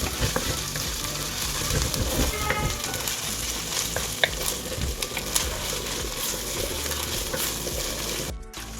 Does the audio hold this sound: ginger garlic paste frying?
yes